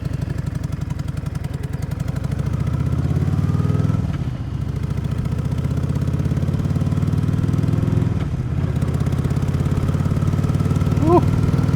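A motorcycle engine runs steadily while riding a rural rustic road, a loud, continuous mid-pitched drone with slight dips in level and no talking.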